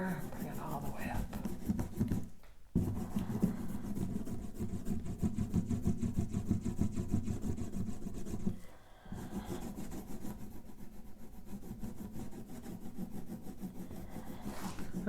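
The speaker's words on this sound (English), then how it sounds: "I'm pressing pretty hard here because I just want a very thin layer of paint and cold wax" A thin layer of paint and cold wax pressed hard onto a surface makes a steady, close scraping rub that runs almost continuously, broken by two brief pauses.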